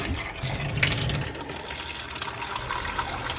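Antifreeze-tinted water runs from a faucet in a camper being winterized, a steady close gushing stream with a brief louder splash early on.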